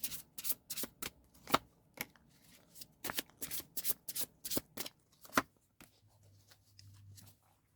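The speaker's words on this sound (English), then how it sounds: "I'm just gonna get the last few cards out here." Tarot cards being shuffled and drawn up close, a series of crisp riffles and slaps in quick bursts, then a softer sliding of cards at the end, with no talk.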